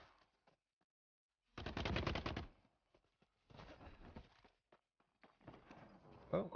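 Automatic gunfire from The Cycle: Frontier, a rapid burst of shots lasting about a second, loud and close, followed by scattered footsteps, softer shooting and muffled game noise.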